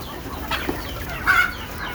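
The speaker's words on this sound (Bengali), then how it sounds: "এই ছেড়ে দিলাম মুরগি।" Native Bengali village chickens, just let out after feeding, cluck nearby in short bursts, with one louder squawk partway through over faint background noise.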